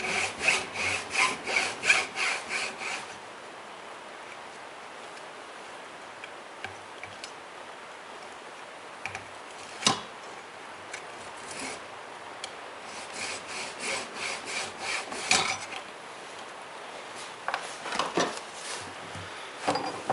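A handsaw cuts straight through a length of PVC pipe in several short bursts of rasping back-and-forth strokes, close and fairly loud, with pauses and faint ticks between the bursts.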